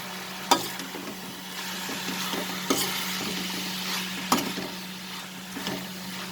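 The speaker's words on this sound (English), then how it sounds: "We will fry this masala along with this mince and onion and all for 2 more minutes." Masala frying with minced meat and onion in a pan for stuffed pointed gourd, a steady soft sizzle broken by a few sharp stirring knocks, with no voices.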